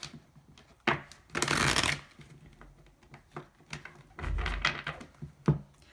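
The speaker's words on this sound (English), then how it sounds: "I'm gonna pull a few cards and see what we can get here" Tarot cards being shuffled and pulled from a deck, with a couple of long, dense riffling bursts between soft thumps and taps, close and fairly quiet.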